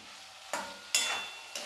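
Vegetables and pakoras with tomato ketchup stirred in a pan, three quick scraping strokes over a faint sizzle, close and brief.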